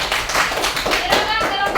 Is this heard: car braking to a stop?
no